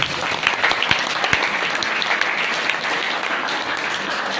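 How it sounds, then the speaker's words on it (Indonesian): A gathered audience at a religious debate session claps steadily for several seconds, with dense, even applause and a few sharp individual claps near the start. "Tepuk tangan untuk kita semua."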